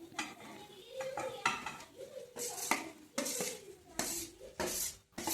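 Boiled potatoes go into a pan of spiced masala for vada pav filling, with a metal spoon scraping and clattering against the pan in quick, uneven strokes. The sound is close and moderately loud, with no voice over it.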